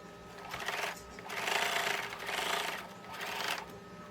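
A sewing machine stitches a pocket onto a denim apron in three or four steady whirring runs with short pauses between them, close and moderately quiet, no voices.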